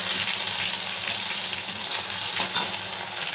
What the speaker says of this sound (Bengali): তখন আমি তেলের মধ্যে কেটে রাখা টমেটোটা দিয়ে দেব